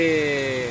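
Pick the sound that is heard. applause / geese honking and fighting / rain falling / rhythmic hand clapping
rain falling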